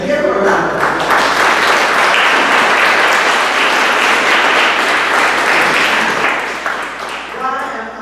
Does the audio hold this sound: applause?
yes